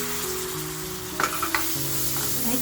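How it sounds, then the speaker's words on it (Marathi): Tomatoes go into hot masala in a pan, a steady close sizzle of frying with a few stirring scrapes and soft clatters in the middle, no voices. "आता बघा मसाला जळू नये म्हणून लगेचच टॅमॅटो टाकते."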